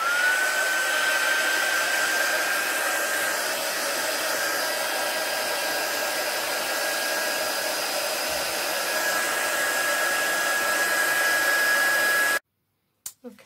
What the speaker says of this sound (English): heat gun, to just dry it a bit.